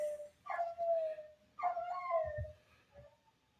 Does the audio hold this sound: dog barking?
yes